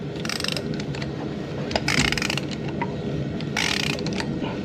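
A ratchet wrench loosens a cylinder head temperature sensor threaded into the aluminum head of a 2010–2014 Ford Fusion, giving several short bursts of quick metallic clicking over steady workshop background noise.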